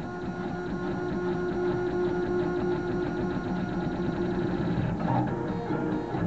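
Solidoodle 3D printer running a quick two-layer print at raised speed, a steady close mechanical whir of stepper motors with rhythmic buzzing head movements, continuous throughout.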